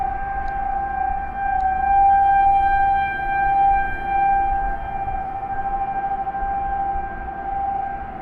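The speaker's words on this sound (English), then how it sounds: "they sound all the tornado sirens just as a test" A tornado civil defense siren sounds during a routine scheduled test, a steady sustained wail that holds for the whole stretch, carrying over a rumbling outdoor background with no talking.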